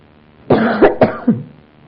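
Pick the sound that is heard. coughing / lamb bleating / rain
coughing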